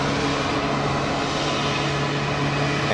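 An airliner taxis at Geneva Airport, giving a steady distant engine drone with a constant low hum and no change in level. No one speaks.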